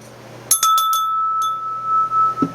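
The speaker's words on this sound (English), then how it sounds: "I think it's just a repurposed aluminum object that was turned into a bell." A repurposed solid aluminum bell with a bolt for a clapper and an eye-bolt handle, struck a few times in quick succession before one bright, sustained ringing tone hangs on and slowly fades, close and loud.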